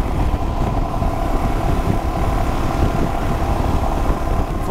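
A Royal Enfield Himalayan motorcycle engine drones loud and steady while riding at around 4500 RPM on a long highway run, mixed with heavy wind rush and no voices.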